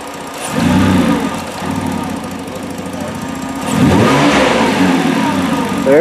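A Ford 3.7 Duratec engine swapped into a car revs twice to around 2,000-3,000 RPM, loud and close, rising from idle, easing back, then climbing again.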